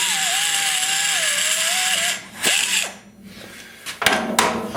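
A light handheld power tool grinds and ports the intake runners of a 2000 Volkswagen 1.9 TDI diesel cylinder head, a steady high whine that shifts pitch, cuts off, then restarts in short bursts.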